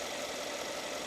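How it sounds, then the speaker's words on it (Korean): A repaired Mercedes-Benz S500 with an M278 engine idles smoothly and steadily, a continuous even hum with no stumbling and no voices. "엔진 소리도 굉장히 조용하고 차가 부조하는 거 없고"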